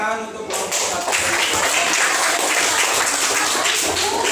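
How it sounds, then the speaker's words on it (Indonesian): Classroom applause for a student group breaks out after a brief pause and continues as a dense, steady wash of clapping from many hands for about four seconds. "Tepuk tangan untuk kelompok 1."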